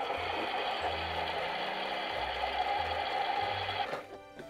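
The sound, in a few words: toy washing machine running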